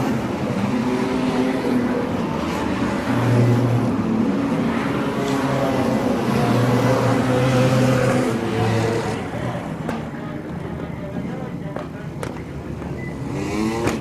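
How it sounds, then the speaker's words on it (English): Wingless sprint cars roar around Laang Speedway during an A-Main race. The engines howl loudly and continuously, with pitch rising and falling as the cars pass. The engine sound thins toward the end. "Greg Bishop's driving this race 10 tenths."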